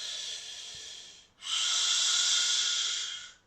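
Two forceful breaths during an abdominal breathing exercise, both close and breathy: a long exhale tapers off, then after a brief gap a louder, sustained blow of air follows and fades out.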